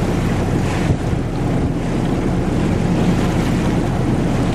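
A boat engine drones steadily and close on the water near Brienno, Italy, with wind buffeting the microphone and water rushing throughout.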